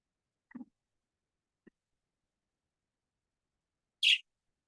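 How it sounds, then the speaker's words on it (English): A lone bird gives a single short, high chirp near the end, faint and distant in an otherwise quiet indoor space, with a couple of soft knocks earlier. "You hear the bird in the background chirping away"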